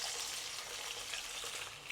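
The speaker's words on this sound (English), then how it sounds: "Add in 250 milliliters of water." Water pours steadily into a pot where garlic is browning for a Chinese braise of fish and mushrooms in black bean sauce, a soft continuous splashing wash with no talk.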